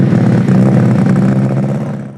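MG Metro 6R4 rally car engine, a Group B WRC machine, revving loud and close with a rough, throbbing mid-pitched roar that holds steady and then drops away at the end, with no talk over it.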